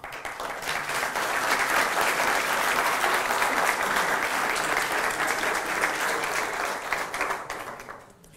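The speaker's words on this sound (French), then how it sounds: "Vous avez applaudi trop longtemps, le time est terminé." Conference audience at a Java talk applauding steadily for several seconds, a dense even wash of clapping that fades out at the end.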